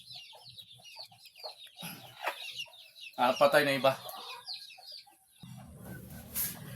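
Chickens cluck and murmur close by on a Filipino backyard farm where red-eyed offspring of a prized breeding hen and a chick are kept, the soft calls scattered through the clip beneath a brief spoken line from a man.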